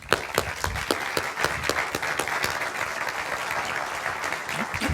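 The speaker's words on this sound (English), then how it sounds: "I'd like to ask you all to give a massive round of applause and welcome to the stage Sir Stuart Rose." An audience applauds as a guest is welcomed onto the stage, a steady burst of many hands clapping throughout, fairly close and without talk over it.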